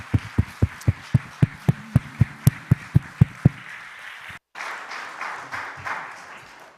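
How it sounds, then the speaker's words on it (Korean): A church congregation at a weekday blessing prayer meeting claps in a steady, quick unison beat for a few seconds, then pauses briefly before breaking into a looser wash of applause. "하나님께 영광의 박수를, 우리 시온성가들을 위해서는 격려와 축복의 박수를 한번 드리겠습니다"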